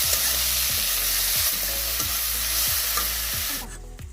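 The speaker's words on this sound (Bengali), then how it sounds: "পেঁয়াজটা লাল লাল করে ভাজা হয়ে গেছে।" Onions fry in oil and are stirred in a pan for a Bengali rohu fish curry, with steady loud sizzling and regular scraping strokes of a spatula roughly every half second, then the sizzle drops near the end.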